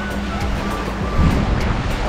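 Surf washing onto the long beach at Tigaki on Kos, a steady broadband wash of breaking waves close by with some wind noise on the microphone and no speech.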